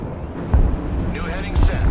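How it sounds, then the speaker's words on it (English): An air-strike bomb explosion in the video game Broken Arrow, a deep low boom rumbling beneath radio-style voices, with a second heavy thump near the end. "Bomb on target."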